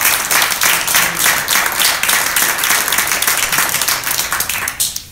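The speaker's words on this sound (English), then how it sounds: "Guys, round of applause for David." A meetup audience gives a hearty round of applause for David after his class on the BLoC programming pattern. Dense, loud clapping continues for about five seconds, then thins out at the very end.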